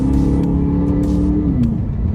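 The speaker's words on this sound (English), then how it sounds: "Revs up beautifully." Aston Martin DBX SUV engine pulling under acceleration with paddle shifting, a loud close rising engine tone that steps down at a gear change, with brief clicks over the drone.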